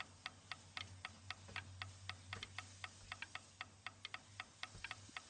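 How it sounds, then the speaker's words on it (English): A metronome ticks steadily in the video game Before Your Eyes, sharp evenly spaced clicks over a low steady hum, quiet and with no voices. "The metronome has to be up for it to advance through time."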